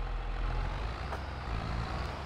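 A Farming Simulator 22 tractor engine runs in a continuous low, throbbing hum at an even loudness, with a faint brief click partway through and no talking.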